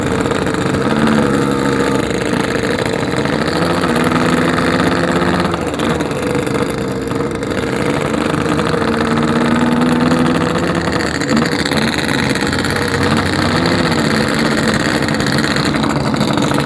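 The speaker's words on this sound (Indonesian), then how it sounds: "Setelan karbu kebasahan. Jadi bawahannya agak sedikit ngeberbet." A motorcycle engine idles with its carburetor set too rich, a steady, continuous, fairly loud rumble with a slightly uneven, sputtering low burble running throughout.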